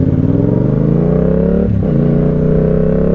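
A Yamaha MT-07 with a custom exhaust accelerates hard, its engine note climbing steadily in pitch, then dipping briefly at a gear change before rising again, loud and close with wind noise.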